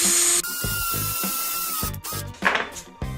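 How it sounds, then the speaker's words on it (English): A hand drill bores a hole in a piece of wood with its bit resting in a scrap-wood guide cut at 90 degrees. Short whirring bursts come close and loud with brief pauses between them. "you wanted to drill a really close to 90-degree angle hole in a piece of wood"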